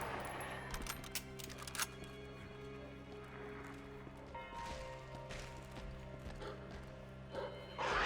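Heavy, thudding footsteps of Mr. X stomping through Resident Evil 2 game audio, repeating at a steady walking rhythm beneath sustained droning tones, with no talking.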